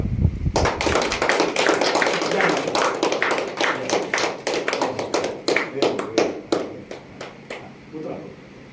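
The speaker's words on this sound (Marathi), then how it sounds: "टाळ्या वाजवा" Audience clapping hands during a subconscious-mind-power demonstration, a burst of sharp, close claps that starts dense and then thins into scattered, slowing claps, with a voice speaking over the start.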